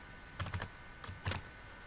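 Quiet bursts of typing on a computer keyboard while writing a Bash until-loop script, with a few quick clustered keystrokes, a pause, then another short flurry, fairly close and soft.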